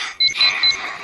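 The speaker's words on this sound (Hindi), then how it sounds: "सुबह 5 बजे का अलार्म बजते ही" Alarm clock ringing at 5 a.m., a loud, shrill electronic beeping in rapid bursts, close and alone.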